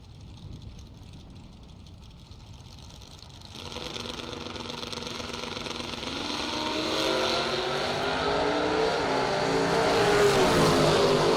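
Mazda RX-7 drag race car at a St Patrick Classic drag strip event, a low idle rumble that gives way to a rising, rasping engine howl as it launches and accelerates, growing louder and higher over several seconds.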